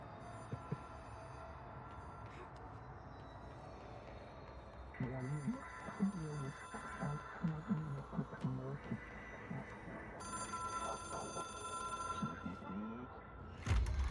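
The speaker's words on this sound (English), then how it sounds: "Answer the phone, Jesse." An old telephone rings inside the video game Control, a bright electronic bell that grows louder and denser toward the end over low ambient rumble, with a voice speaking partway through.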